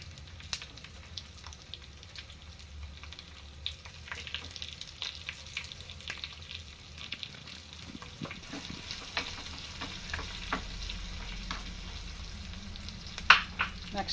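Garlic, dried red chillies and a pinch of asafoetida frying in oil for tomato rasam, a quiet steady sizzle with small crackles and a few sharper pops that grow near the end, no voices.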